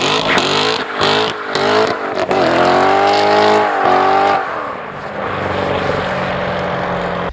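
A Chevrolet Corvette C7 Stingray engine in the Need for Speed Rivals and Edge racing games revs hard, climbing in pitch through several quick gear changes, then settles to a lower steady drone. It is loud and close, with no voices.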